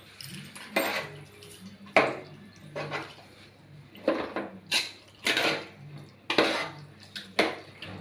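Chicken curry ingredients being mixed in a pan with salt, giving a string of close, sharp metallic scrapes and clinks of a spoon against the pan at an irregular rhythm, with no talk.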